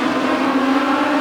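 Race cars at a heat race on the track after a restart, their engines a loud, continuous roar with no break throughout the short moment.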